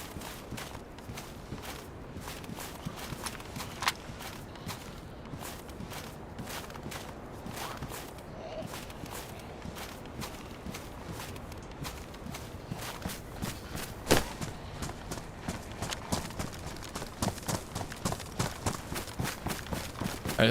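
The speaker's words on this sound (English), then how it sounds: "I heard footsteps." Footsteps crunch steadily through the DayZ Livonia map in the video game, a long run of close, rhythmic steps that quickens toward the end, with no talk over them.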